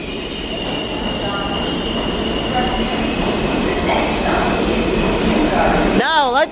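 A New York City subway train idles at a station with a loud, steady rumble and hum, then a rising and falling tonal squeal or whine near the end.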